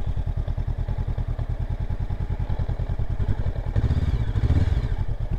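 Honda CL500 motorcycle accelerating hard in gear on a narrow two-way road, its engine pulsing in a steady, close, loud rhythm that swells near the end as the throttle opens further.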